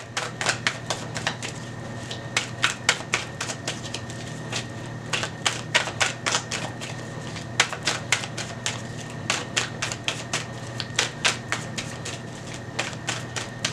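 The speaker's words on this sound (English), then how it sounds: "one final shuffle." Tarot cards being shuffled by hand: rapid, close riffling and tapping bursts in an irregular rhythm, fairly quiet and heard alone.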